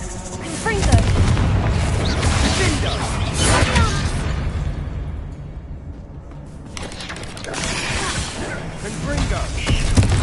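Confringo spell blasts in Hogwarts Legacy go off as heavy booming explosions with rumbling debris, loud and close, one after another, and a voice speaks between them.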